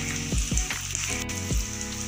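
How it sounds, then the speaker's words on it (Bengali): Egg chops made with egg and potato fry in oil over a medium-high flame, a close, continuous soft sizzle with a few tonal background notes, no talking. "এইভাবে আমি ভালো করে উল্টে পাল্টে ভেজে নেব মিডিয়াম টু হাই ফ্লেমে।"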